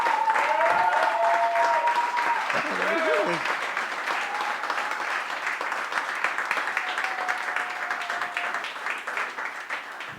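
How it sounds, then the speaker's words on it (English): At a comedy show, a crowd gives a sustained round of applause for the opening comedians, steady dense clapping over the whole stretch with a few voices calling out over it. "Big round of applause to them because they all tried"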